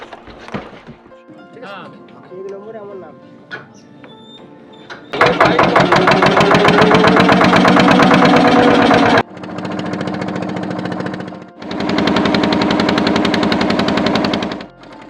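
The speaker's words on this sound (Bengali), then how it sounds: "আসলেই কিন্তু এরকম ভটভটি পাবেন" A bhotbhoti motor boat engine near Mousuni island chugs in rapid, loud, machine-gun-like bursts that stop and restart, after a quieter stretch with voices and ambient noise.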